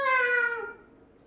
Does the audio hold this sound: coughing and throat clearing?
no